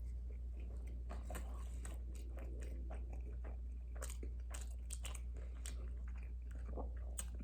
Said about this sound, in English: can just taste the crunch of the bacon come through